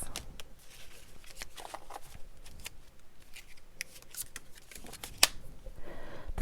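Tarot cards are shuffled close up, giving quick papery riffles and soft taps in uneven bursts, with one sharp snap near the end and no talking.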